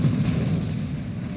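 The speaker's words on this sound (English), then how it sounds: "Bad timing on that explosion." A low, rumbling explosion from the space shooter game Nova Drift fills the whole short moment, with a loud, dense boom that fades slightly as it ends.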